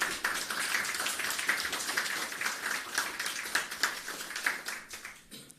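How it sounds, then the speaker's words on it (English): An audience at a ministry media briefing gives a round of applause for an agriculture minister, a dense, even patter of many hands clapping at moderate volume that holds steady and then tapers off at the end. "Give him a round of applause"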